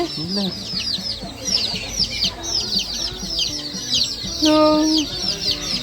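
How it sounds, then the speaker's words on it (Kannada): Several colourful chickens and chicks cluck repeatedly at a birds and animals park in Yelagiri, with busy overlapping calls and chirps, one brief louder tonal call near the end, amid faint background voices. "ಇಲ್ಲಿ ಕಲರ್ ಕಲರ್ ಕೋಳಿಗಳು, ಬೇಬಿಗಳು"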